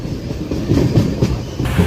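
Steady low rumble and rolling rail noise of the 17329 Express running through open country near Phirangipuram railway station, heard from inside the train, continuous and fairly loud with faint wheel clatter.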